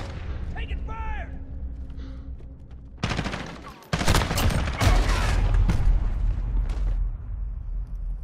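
Call of Duty Modern Warfare firefight. Radio chatter comes first, then dense, loud bursts of automatic gunfire with sharp cracks. Voices speak among the shots.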